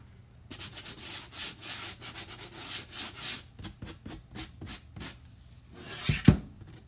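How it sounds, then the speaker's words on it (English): A chalk couture project is sanded by hand in a series of rhythmic rubbing strokes, close and fairly quiet, ending with a sharper knock. "Just sanding off stuff."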